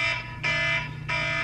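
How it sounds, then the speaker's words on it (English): An alarm goes off in bursts, a loud, piercing electronic tone sounding twice with a short gap between, close and alone with no talk. "My alarm's going off"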